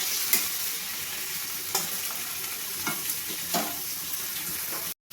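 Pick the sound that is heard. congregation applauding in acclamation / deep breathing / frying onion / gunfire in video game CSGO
frying onion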